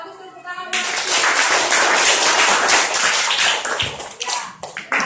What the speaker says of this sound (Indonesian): ya bagus, tepuk tangan buat